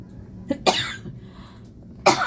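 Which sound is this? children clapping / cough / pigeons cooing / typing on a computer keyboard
cough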